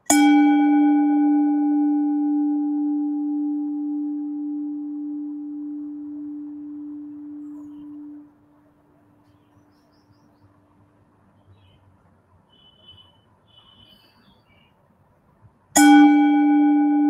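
A mindfulness bell is struck once at a quiet gathering, ringing clear and sustained before fading out after about eight seconds. Near-silence follows until a second strike rings out just as brightly at the end.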